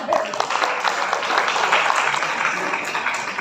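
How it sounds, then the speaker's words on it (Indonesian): Audience applause at an Indonesian disability motivation seminar in Rembang, a dense, continuous clatter of many hands at close range, holding steady from start to finish. "tepuk tangan untuk kita semua."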